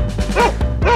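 A dog gives two short barks with a slight yelp, close and fairly loud, separated by a brief pause, with no voices present.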